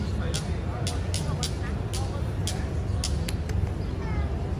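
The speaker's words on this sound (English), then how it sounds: "The first one is the ili ili, it's the river rock," Ili ili, smooth river rocks used as a hula implement, are clicked together outdoors at the Royal Hawaiian Center in Oahu, Hawaii, producing about nine sharp, bright clicks in an uneven rhythm over background crowd murmur.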